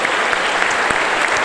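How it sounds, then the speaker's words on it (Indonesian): A church congregation claps together in a loud, steady burst of applause with no talking over it. "Kita beri tepuk tangan."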